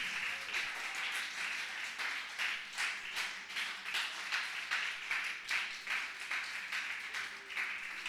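A church congregation applauding, a dense, sustained wash of many hands clapping for the whole stretch, loud and steady, with brief voices mixed in.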